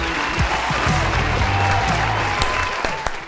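A thunderous burst of applause from a crowd, dense and continuous, a loud wash of many clapping hands that holds steady before easing slightly near the end.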